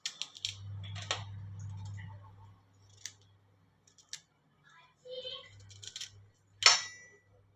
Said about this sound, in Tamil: இந்த கோவைக்காய் அவ்வளவும் நான் கட் பண்ணி வச்சுருக்கேன்.